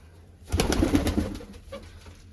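A large Tamkot pigeon gives one close, throaty cooing phrase, a rolling burst of low coos that trails off into quieter murmurs.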